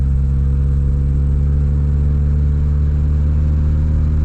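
A 1993 Honda Accord engine pulls steadily in second gear, a loud, continuous mid-pitched drone with strong low harmonics that holds for several seconds without a break, heard close with no voices.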